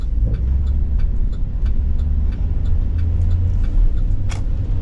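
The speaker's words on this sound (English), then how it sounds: "The FedEx truck loading up the hoods." A FedEx delivery truck engine rumbles low and steady at idle while being loaded with car hoods, with faint clicks and knocks of activity around it.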